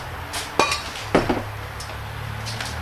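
A metal ice chopper dropped by its own weight onto frozen ice outdoors, giving two sharp clinking impacts close by, each followed by a brief crunch, with quiet between the strikes.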